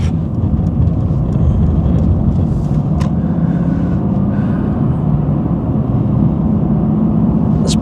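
A car cruising on a multi-lane road past other vehicles, with a constant loud engine and tyre drone, wind noise and a brief whoosh as traffic goes by.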